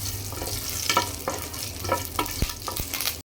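Cashews, curry leaves and dried red chillies frying in oil for jeera rice: a continuous sizzle with repeated spoon stirring and scraping strokes and a couple of sharp taps against the pan, ending abruptly.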